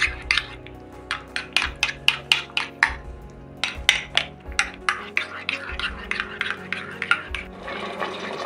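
Thick yogurt is whisked in a bowl, giving a fast series of sharp clinks and scrapes in quick bursts with brief pauses, close and fairly loud.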